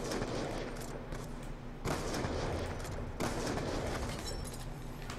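Rapid bursts of automatic gunfire in Call of Duty Black Ops 2 multiplayer, dense crackling volleys in three sustained stretches with brief gaps, loud and close, no voices.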